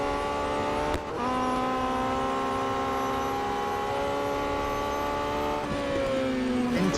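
Race cars roar past in the Real Racing 3 video game, a sustained high engine whine rising and shifting pitch as the laps go on, with a brief dip near the start and no voices.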